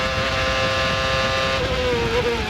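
A CART race car at full throttle in top gear on the long straightaway of the 2001 Toronto street circuit, engine note steady and loud with a rising pitch, no voices.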